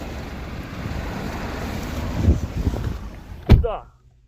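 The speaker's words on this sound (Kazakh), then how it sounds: "Азыр жерде су чачырайды" Water splashes onto the road from a car's burst tire, a steady rushing hiss with a sharp thump near the end before it cuts off.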